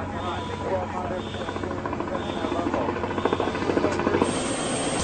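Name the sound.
helicopter approaching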